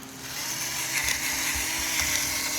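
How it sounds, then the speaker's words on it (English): A pepper grinder grinding pepper gives a continuous close whirring, grinding buzz with a steady hum and faint rhythmic crunching, with no talk. "My favorite pepper grinder."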